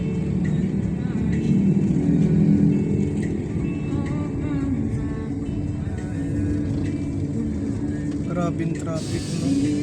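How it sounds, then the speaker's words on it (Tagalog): Heavy road traffic in Calamba, Laguna, with cars and buses, a continuous low rumble of engines close by from inside a vehicle, with occasional hisses and higher mechanical tones, while people talk over it. "Grabing traffic, no?"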